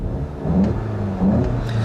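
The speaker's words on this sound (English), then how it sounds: "you're hearing the same 2-liter turbocharged direct injection engine" A 2015 Volkswagen GTI's 2-liter turbocharged direct-injection engine revs briefly, rising twice in quick surges with a gruff, mid-pitched growl, close and fairly loud.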